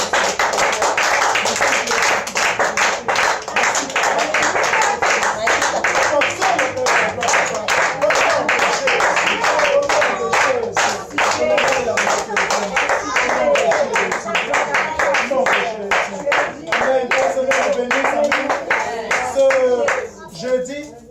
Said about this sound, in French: Nous pouvons tous acclamer le Seigneur.